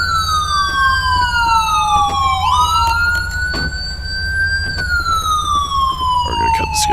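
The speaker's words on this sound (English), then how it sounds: "We're gonna cut this guy's sirens." A California Highway Patrol car siren wails loudly and continuously, its pitch sweeping up and down, over a low engine rumble and faint background noise.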